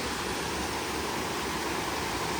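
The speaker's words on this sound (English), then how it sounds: "There's a waterfall up top." A waterfall on Costa Rica's Pacific coast pours in a steady, dense rush of falling water, close and unbroken, with no voices.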